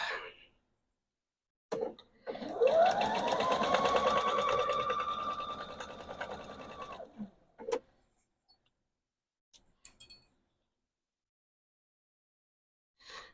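A sewing machine runs steadily for several seconds stitching a seam on a Christmas pillowcase, its motor whir rising then holding, followed by a few soft clicks and quiet handling.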